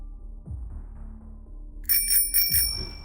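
A bicycle bell rings twice in quick succession, bright metallic tones standing out after a stretch of low background noise.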